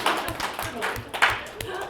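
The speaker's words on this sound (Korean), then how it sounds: "박수 한번 주세요" Audience at a sales training lecture clapping briefly, a short burst of scattered hand claps with uneven rhythm, fairly close.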